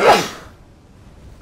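A single sharp human sneeze bursts out loudly at the start and quickly fades into near silence.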